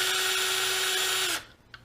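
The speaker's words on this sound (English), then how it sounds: "And then I will put the power tool to it." A power drill whines steadily for just over a second driving out screws on an RC truck, then spins down and stops, followed by a faint click.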